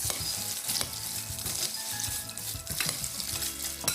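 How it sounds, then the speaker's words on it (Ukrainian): Pumpkin seeds, cashews and cranberries are stirred together for homemade kozinaki, giving a steady, close rustling and scraping that runs through the whole stretch over a faint tonal background. "Перемішуємо."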